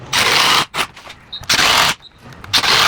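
A power drill drives 1.5-inch screws into a wooden shelf unit in three loud close bursts of whirring, separated by short pauses and small clicks, with no talking.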